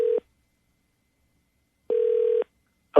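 Telephone ringback tone on an outgoing call to a radio-show prank line, two steady electronic rings with silence between and the start of a third, clear and alone with no voices.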